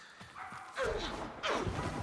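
Companion dog in the video game Warframe barking, two short sharp barks about a second apart, close and fairly loud over a low game background.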